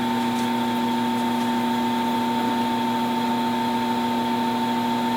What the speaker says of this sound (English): I'm going to bore a hole to clean it up, hopefully with this Forstner bit